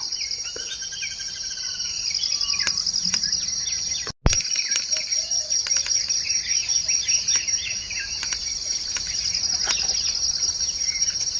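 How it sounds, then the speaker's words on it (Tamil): Morning birdsong in a forest, scattered chirps and short calls over a steady high insect drone, with one sharp knock partway through and no speech. "இந்த பறவை பட்சிகளோட சத்தமும்"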